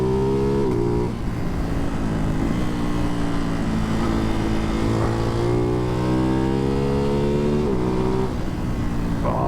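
A Ducati Hypermotard 698 Mono supermoto with a Termignoni exhaust pulls hard through third gear on a open road, its single-cylinder note rising in pitch with brief dips at each shift, loud and close throughout.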